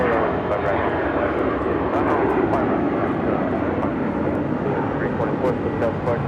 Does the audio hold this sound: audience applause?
no